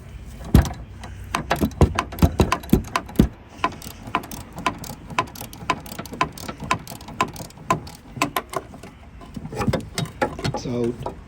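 Metal clicks and ratcheting knocks from lock pliers gripping a spinning stud while the nut comes off a Vauxhall Corsa front drop link, a steady run of sharp close taps and clatters through most of the stretch.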